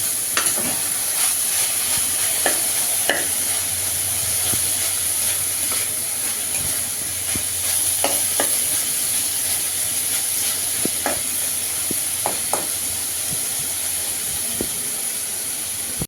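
Fig curry simmering in a pan with a steady, even hiss of steam and bubbling, broken by occasional sharp knocks and scrapes of a spoon stirring, continuous and close.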